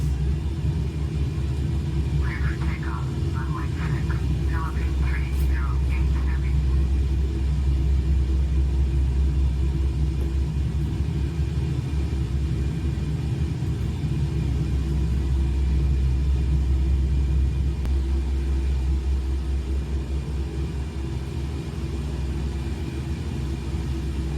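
Philippine Airlines plane taking off from runway 6, heard from inside the cabin as a steady deep engine roar and rumble that stays level throughout, with no talk.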